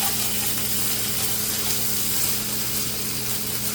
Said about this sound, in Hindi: कीमे को अच्छी तरह से मैंने भून लिया, फ्राई कर लिया